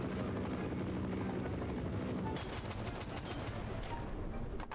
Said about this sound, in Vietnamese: Máy bay trực thăng của quân đội zombie kìa.